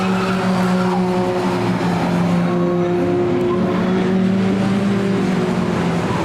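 A race car in a sim racing game during qualifying with a brake failure, its engine droning loudly and steadily with sustained tonal whine and rough tire noise throughout, no voices.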